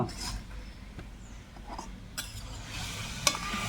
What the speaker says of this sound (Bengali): এরপর মা কেটে রাখা সবজিগুলো এখন কষিয়ে নিচ্ছে